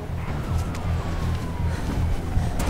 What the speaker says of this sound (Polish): Zbliżają się do ciebie radiowozy.